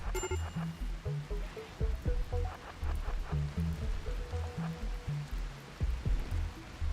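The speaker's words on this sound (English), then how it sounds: "At least it's raining." Steady rain hisses across the map in the video game RimWorld, a continuous wash of soft noise with scattered game clicks and low thuds layered over it and no talk.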